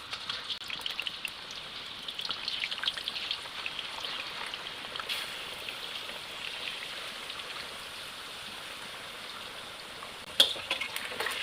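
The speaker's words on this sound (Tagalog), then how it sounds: "So, ngayon, mainit na yung oil. So, ilalagay na natin yung chips." Potato chips fry in hot oil, giving off a steady, soft, even sizzle with a faint hiss and one brief sharp pop near the end, with no talking.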